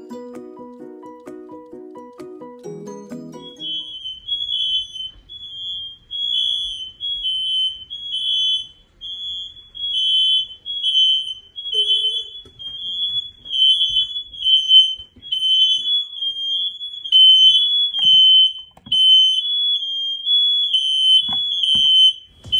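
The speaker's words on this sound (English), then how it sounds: "every single fire alarm in the house started going off" Several house smoke alarms shriek together in loud, piercing, pulsing beeps that repeat steadily for a long stretch, with a few faint background noises underneath and no talking.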